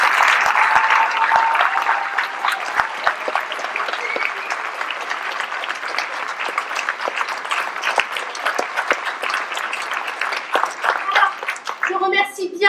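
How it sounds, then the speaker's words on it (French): Loud, sustained audience applause for a small group of folk dancers at a ball in Josselin, a thick continuous patter of many hands with a few sharper claps, thinning near the end. "On les applaudit bien fort."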